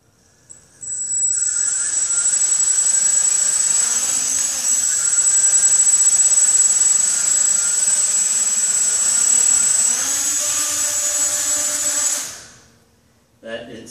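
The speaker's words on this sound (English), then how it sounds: "It cuts power to these two motors right here, and then it just spins like that." Tiny motors on a small quadcopter, a tinyCopter, spin during a flight test, giving a steady high-pitched whine with a buzzy drone beneath for about eleven seconds before winding down, close and loud.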